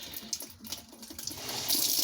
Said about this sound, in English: It's going to put water in.